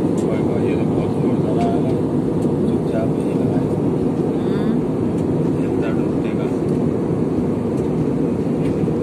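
Airliner cabin noise on final approach into Pune, a loud, constant low roar of engines and airflow that runs unbroken through the whole stretch, with a voice talking faintly underneath.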